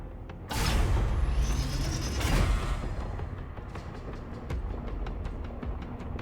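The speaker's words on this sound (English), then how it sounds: "Did you hear that? This mechanism must be on now." A machine mechanism starting up in the Honkai: Star Rail video game: a loud mechanical whoosh and grinding swell, then a rumbling churn with rhythmic clanks and ratcheting clicks that fades slightly, no talk.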